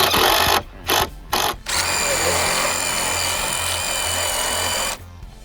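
A power drill drives a lag screw into the wooden frame of an A-frame chicken tractor, with a few short loud bursts followed by a long sustained run, close and loud.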